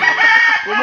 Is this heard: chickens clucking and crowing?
yes